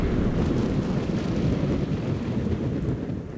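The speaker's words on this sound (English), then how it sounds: "I kind of prefer the thunder because it's very apparent" Thunder effect triggered in a game-audio track sequence: a dense, steady low rumble rolls on for the whole stretch, loud and close with no pause, fading only slightly at the end, no voices.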